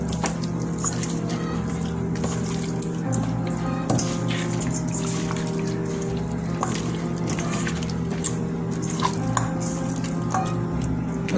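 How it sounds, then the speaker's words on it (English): Tap water runs steadily into a sink while hands are washed under the stream, with a constant close rushing flow and small splashes and drips throughout, no talking. "When I'm done, I'm going to thoroughly wash my hands."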